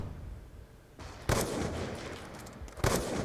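Two sharp, loud gunshot blasts in the PC game Black Ops 2, about a second and a half apart, with a steady noisy background between them and no talking.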